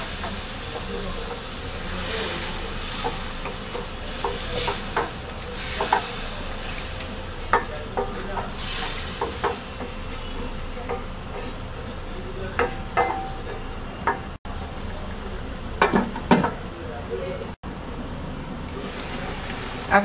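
Shol (snakehead) fish curry with tomato simmering in a pan after a cup of water is added, over medium heat; a soft steady hiss and bubbling with occasional light clinks and stirring noises, faint and close.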